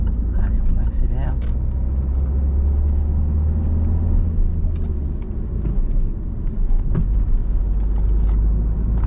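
A car speeds up during a driving lesson: a steady, loud engine rumble fills the clip while an instructor and learner talk over it.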